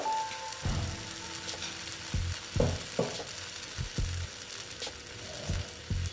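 Semolina and gram flour batter sizzles steadily on a hot griddle (chatu) as small ladlefuls are poured, with soft scraping and tapping of a utensil over the continuous frying hiss.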